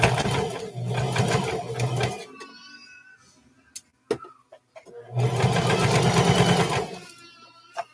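Sewing machine running a back stitch over a seam on short pants: two steady whirring runs, close and fairly loud, separated by a quiet gap with small clicks and handling noises.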